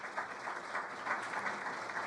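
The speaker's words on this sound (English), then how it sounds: "So let's give him a round of applause." Steady broadband applause from an audience at a community town hall on opioid abuse in Somerset Hills, dense and continuous throughout at moderate volume.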